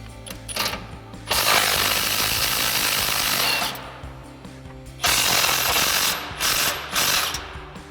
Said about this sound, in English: we've got our 18 mil socket on our impact, and an 18 mil wrench